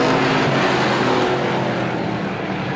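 Loud engines roaring as race cars speed past close by on an oval track at Star Speedway during heat races, a continuous high-revving drone.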